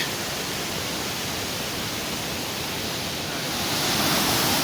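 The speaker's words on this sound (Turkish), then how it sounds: "Burada irili ufaklı küçük şelalelere de denk geliyoruz." Small cascades along the Canikdere trail near Tonya, Trabzon, give a steady, broadband rush of falling water, loud and even throughout with no talk, swelling slightly toward the end.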